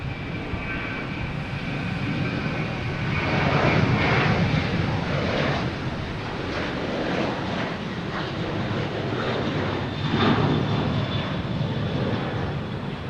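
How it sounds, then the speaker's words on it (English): A Southwest Boeing 737 takes off at Logan Airport, its jet engines a loud, steady roar that swells and eases slightly over several seconds, heard alone with no talking. "Next we have a Southwest taking off,"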